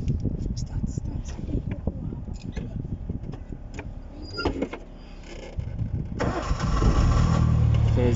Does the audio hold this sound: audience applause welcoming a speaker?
no